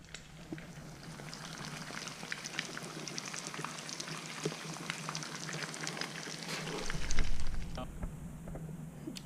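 Kimchi fried rice with green onions frying in a pan, a steady broad hiss of sizzling with scattered crackles throughout, swelling briefly louder near the end as the rice is stirred.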